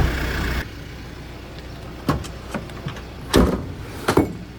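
Tailgate on a 2025 Mitsubishi Triton GL 4WD diesel pickup folding down, with a few metallic clunks and thuds, the heaviest two near the end, close by over a low idle hum with no one speaking.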